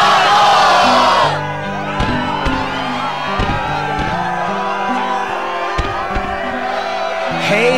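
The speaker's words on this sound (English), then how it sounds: "Yes, the crowd is fired up" Crowd at the Struggle tournament in Twilight Town, Kingdom Hearts II Final Mix, cheering and whooping: a burst of loud shouts at first, then a sustained roar of cheers running under game music.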